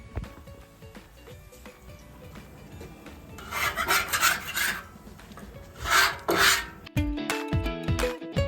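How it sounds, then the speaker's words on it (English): Metal scraper rasping rust off a hot Blackstone griddle: repeated harsh scraping strokes, close and loud, in two longer bursts, followed by quicker clattering scrapes and metallic knocks. "so I'm going to start scraping."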